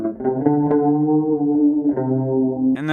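Eastwood baritone guitar played through an Old Blood Noise Endeavors Screen Violence reverb and a Boss Super Chorus, a few sustained, shimmering picked notes with a wide, swirling wash and a brighter attack near the end.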